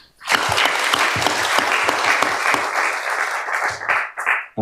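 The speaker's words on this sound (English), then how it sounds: "we give our warmest round of applause" Audience at a memorial ceremony for late advocates giving a warm round of applause, loud dense clapping from many hands starting abruptly and holding steady before tapering near the end.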